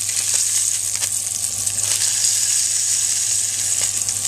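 Seabass fillet fries skin side down in a hot pan, giving a steady, bright sizzle and crackle that holds evenly throughout, close and loud with no talk.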